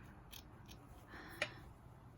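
Scissors snip through yarn just under a braid while a yarn coaster is being made, giving a few faint, soft cuts and one sharper close snip near the end, with no talking.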